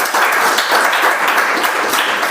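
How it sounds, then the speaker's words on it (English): A meeting audience gives a dense, loud round of applause, many hands clapping steadily and close by for a couple of seconds. "Let's have a round of applause for her too."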